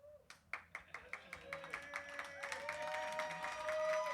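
An audience claps at a live-streamed event, starting with a few distinct, evenly spaced claps that quickly swell into a dense, steady round of applause, fairly close and loud.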